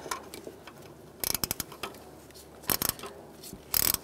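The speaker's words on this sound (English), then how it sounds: "Using a 12 millimeter ratchet wrench to take off this nut" A 12 mm ratchet wrench loosens a nut on a 2007-2017 Ford Expedition 5.4L V8 during fan clutch replacement, giving three separate bursts of quick, close metallic clicking with quiet pauses between them.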